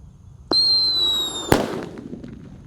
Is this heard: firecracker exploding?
yes